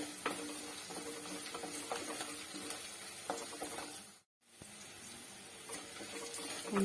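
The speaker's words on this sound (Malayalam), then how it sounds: "ഇഞ്ചിയും വെളുത്തുള്ളിയൊക്കെ മൂത്ത് വരുന്നുണ്ട്." Ginger and garlic fry in hot oil in a pan for a fish curry, a faint continuous sizzle with occasional stirring scrapes and a brief silent gap.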